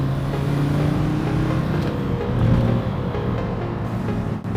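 An Audi RS3 converted to diesel drones steadily with a low, rough rumble, swelling slightly as it revs before settling, heard from inside or close by without talk.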